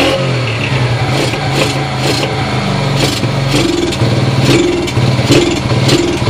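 A Yamaha Champ moped engine revs loudly and continuously close by, its buzzing two-stroke note rising and falling in repeated throttle blips without any talk.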